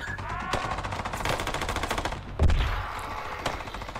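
Rapid automatic gunfire from an SCP horror video game set in a research and testing facility, loud, dense bursts of shots rattling continuously with one heavier blast near the middle.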